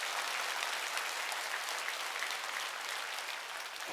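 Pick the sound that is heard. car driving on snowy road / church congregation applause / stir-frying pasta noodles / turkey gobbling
church congregation applause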